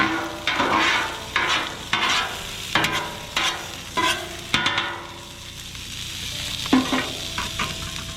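Potatoes sizzle in a little oil on a Blackstone griddle at a campground, with a steady crackling fry broken by repeated scraping and stirring strokes of a spatula, close and clear.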